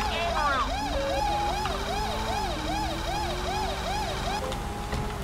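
Wailing police car siren in the video game GTA 5, a steady rising-and-falling yelp cycling repeatedly, loud and close over a low engine drone, with no voices.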